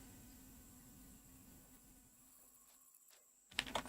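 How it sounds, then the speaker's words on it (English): In the video game Empyrion, a mosquito hums thinly around the player, a faint steady whine that fades. A few clicks and a brief burst of noise follow near the end. "mosquito or whatever it was flying around in front of me"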